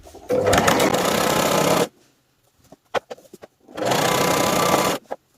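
A sewing machine stitches lace onto the ankle hem of ladies' trousers in two loud, close runs of rapid whirring, with a pause between filled by light clicks and fabric handling.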